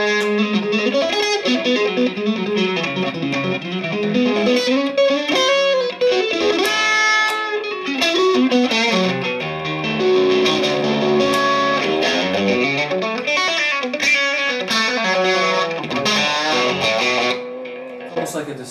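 Smooth, moderately gained distortion on an electric guitar, played as flowing legato lines with sustained notes and slides, steady and up close with no talking over it.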